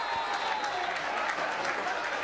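A football stadium crowd applauds after a goal, dense continuous clapping spread wide and steady at a moderate distance, filling the whole stretch without pause.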